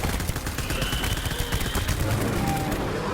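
Rapid gunfire from the video game Death Stranding, a dense continuous burst of shots and impacts lasting a few seconds, loud and close with game noise layered over it.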